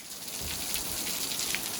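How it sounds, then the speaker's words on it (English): Rain falls hard around the porch of a mountain hut in the White Mountains, a close, steady patter of drops on the roof and ground before a storm, with no talk. "As you can see, it's really raining."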